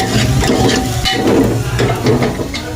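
Tadka being fried for dal in a home kitchen, a steady close sizzle of spices in hot oil with stirring clatter over it, no talk.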